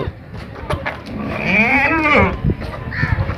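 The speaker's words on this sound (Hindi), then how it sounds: "ये एक राजनपुरी बकरी है, दांतों में 6, प्योर राजनपुरी है।" A pure Rajanpuri goat with six teeth, a heavy-boned breed, gives one long wavering bleat at close range at a livestock market, with faint background noise and no talk over it.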